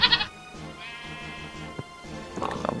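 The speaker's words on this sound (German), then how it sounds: "holen wir Schafi mal noch wieder da rein. Schafi!" Sheep bleating in the video game Minecraft, a few short nasal bleats over a quiet game background, with someone talking in between.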